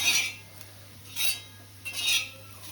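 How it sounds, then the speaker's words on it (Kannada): Sliced bitter gourd being mixed with salt in a bowl, three soft scraping and clinking strokes of a utensil against the dish, close and fairly quiet over a low hum. "ಚೆನ್ನಾಗಿ ಮಿಕ್ಸ್ ಮಾಡಿ."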